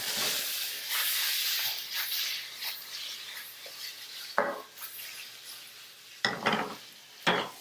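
Tofu sears in a hot pan with a steady broad sizzle and hiss, broken by a few clinks and scrapes of utensils against the cookware, close and moderately quiet.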